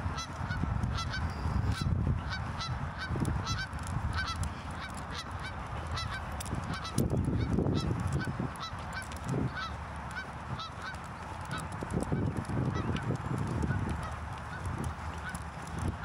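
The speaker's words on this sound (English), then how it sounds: "Got some more geese over there." A flock of geese honking outdoors during a morning dog walk, a continuous overlapping chorus of loud nasal honks that rises and falls, with wind and footsteps underneath.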